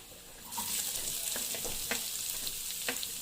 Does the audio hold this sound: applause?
no